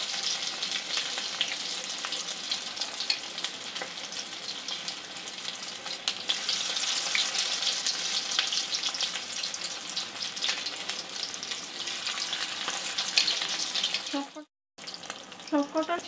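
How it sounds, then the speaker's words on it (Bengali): Coated chicken pieces frying in oil over a medium gas flame, a continuous close crackling sizzle for about fourteen seconds, a brief cutout, then the frying resumes. "চিকেনের পিসগুলো গ্যাসের মিডিয়াম ফ্লেমে এইভাবে লালচে করে ভেজে নেব।"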